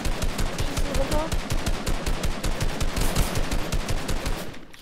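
Rapid automatic gunfire in Fortnite, a fast, even stream of close, punchy shots that keeps going for several seconds, with voices talking underneath.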